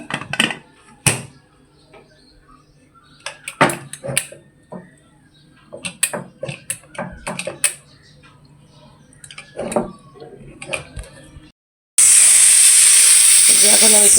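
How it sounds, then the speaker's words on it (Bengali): A pressure cooker holding tripe gives sparse taps and light clatter, then suddenly bursts into a loud, sustained hissing whistle of escaping steam that lasts to the end. "এখন এটা আমি প্রেসারে দিয়ে ছিটি দিয়ে নিব"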